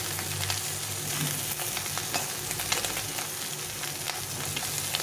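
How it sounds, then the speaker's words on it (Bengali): Raikhor fish fry in hot oil in a pan, making a loud, dense, unbroken sizzle with scattered crackles and pops from start to finish. "তো আমি মাছগুলো এভাবে ভেজে নিচ্ছি"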